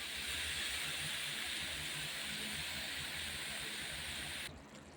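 Salted mushrooms simmering in a covered pan over low heat give off a steady, even hiss of steam and bubbling that suddenly drops away near the end.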